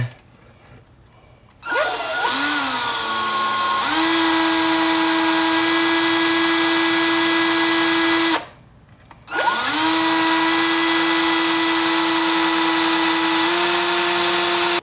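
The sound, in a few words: power drill drilling out a screw from an RC car axle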